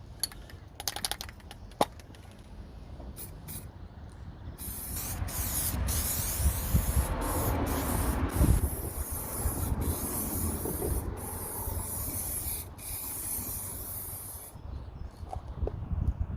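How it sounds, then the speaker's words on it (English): An aerosol can sprays lacquer onto a BMW 5 Series E60 boot lid under rust repair: a long, loud continuous hiss with short bursts and brief clicks before and after. "so that's our first coat of lacquer"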